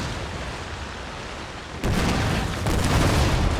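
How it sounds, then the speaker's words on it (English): A merchant ship in Napoleon Total War fires a cannon volley during a naval battle. Background rumble suddenly gives way to a loud, dense roar of overlapping booms that keeps going, with a second surge a moment later and no talking. "Come on, volley from the merchantman."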